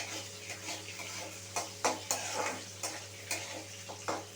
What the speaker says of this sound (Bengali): ক্যাপসিকামগুলো আমি এই একইভাবে ভেজে নেবো, একটু লাল লাল করে ভেজে নেবো।